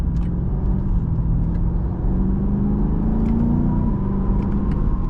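A 2021 BMW M8 Gran Coupe accelerating, its engine rising in a smooth, continuous rumbling pull and briefly shifting pitch, heard from inside the cabin with no voices.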